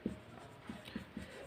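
Pen writing on paper, a few short soft scratchy strokes spaced irregularly, quiet and close.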